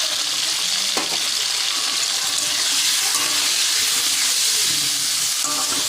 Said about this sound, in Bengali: এবার আলুটা ভাজা ভাজা হবে